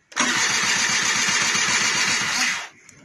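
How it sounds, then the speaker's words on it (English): A 1999 SYM Jet 50cc scooter's electric starter cranks in one close, loud burst of about two and a half seconds, a rapid pulsing whirr that cuts off without the engine catching. "I'm going to try it with the electric start"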